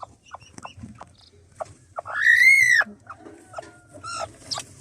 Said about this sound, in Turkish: Buradaki horozlarımızı gösterelim. Burada civcivlerimiz var.